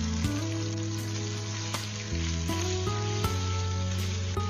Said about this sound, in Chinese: 接下来热锅放入少许食用油，再把腌制好的鸡肉丝放下去给它划散